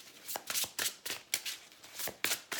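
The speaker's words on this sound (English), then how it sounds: "So let's keep on shuffling." A deck of tarot cards is shuffled close up in a rhythmic series of about eight quick riffling bursts, loud and crisp, with no talking.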